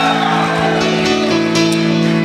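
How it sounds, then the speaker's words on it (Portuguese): A large crowd at a religious gathering cheers and shouts in victory continuously at full volume, a dense roar of many voices with no pauses. "Dê um aplauso ao Messias e um grito de vitória."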